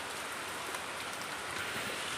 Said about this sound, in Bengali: দেখো চারিদিকে বৃষ্টি আর বৃষ্টি